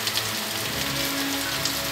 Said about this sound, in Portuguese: Graças a Deus agora choveu, tá?